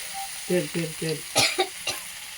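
Taro curry with chopped ginger is stirred in a frying pan over faint sizzling, with a few distinct scraping strokes and a short louder clatter near the middle.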